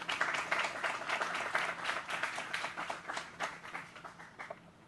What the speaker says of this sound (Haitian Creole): Une fois encore, applaudis pour nous, s'il vous plaît.